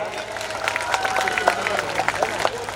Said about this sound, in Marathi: त्या गरिबासाठी टाळ्या करावं सर्वांनी